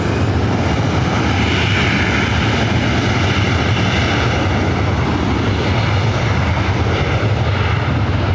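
British Airways airliner arriving on the north side at LAX, a continuous loud, broad engine roar with deep rumble, steady throughout and close by, no talk.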